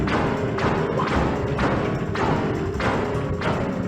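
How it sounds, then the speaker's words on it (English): The haunted piano in Super Mario 64 attacking, a heavy repeating thump about every 0.6 seconds, loud and close over a constant muffled background rumble. "The piano comes alive and tries to kill you."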